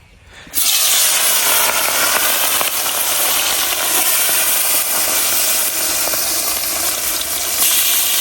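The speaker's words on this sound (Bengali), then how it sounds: "এখন আমি পুঁটি মাছগুলা বাইজে নিয়াম।" Small puti fish hit hot oil in a wok with a sudden loud hiss, settling into a steady, close, crackling sizzle that carries on unbroken without any talk.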